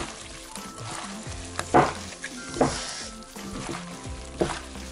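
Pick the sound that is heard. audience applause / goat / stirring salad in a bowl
stirring salad in a bowl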